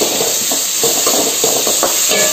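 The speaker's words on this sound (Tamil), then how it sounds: "இது நல்லா வதங்கட்டும்" Tomatoes and tamarind sautéing in a hot pan for a vallarai thuvaiyal, a loud, close, steady hiss of frying with a few soft scraping stirs.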